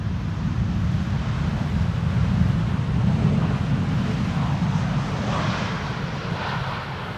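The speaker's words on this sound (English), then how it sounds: "KLM Dreamliner in the meantime landing here" A KLM Boeing 787 Dreamliner lands on runway 18R at Amsterdam Schiphol, giving a broad, steady jet roar with low rumble and some wind buffeting on the microphone, and no one talks.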